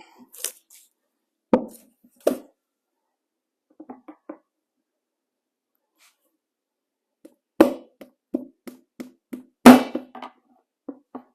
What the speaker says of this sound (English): I'm just going to take this and punch it through and punch it through